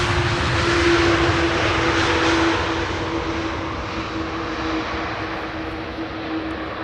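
A large airliner touching down and rolling out on Schiphol's Polderbaan runway 18R, a steady broad engine roar with a sustained tonal whine, loud at first and gradually easing as the aircraft slows, with no voices.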